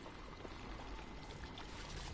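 A box splashing into water in a video game, a soft, steady rushing and pouring wash of water lasting a couple of seconds, faint and alone without voices.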